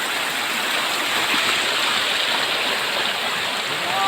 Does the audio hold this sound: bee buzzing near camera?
no